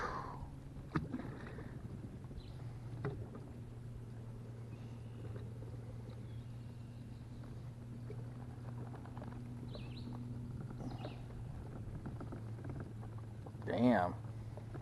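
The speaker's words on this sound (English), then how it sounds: "You gotta get through these lily pads with the motor. You can feel it sucking on them." Small electric trolling motor on a Pelican Bassraider 10E fishing boat straining through lily pads on Lily Lake, Pennsylvania, a steady low hum with faint water churning and a brief splashy burst near the end, no talking.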